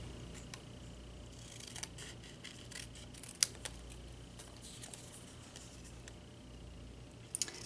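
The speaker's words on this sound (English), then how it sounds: "I'm just using my scissors." Small scissors snip through printed Instagram-style photos being trimmed for a planner. The cuts come as light, scattered clicks over a quiet room hiss, with a few sharper snaps near the middle and the end.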